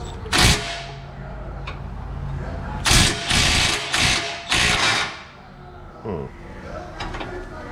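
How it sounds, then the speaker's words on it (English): A ratchet clicks in reverse while bolts are removed during an oil leak repair on a 2004 Chevrolet/GMC Suburban 1500 with the 5.3 engine, in several short clattering bursts close by. "let's go over here and we'll start pulling these bolts out. Reverse clicks."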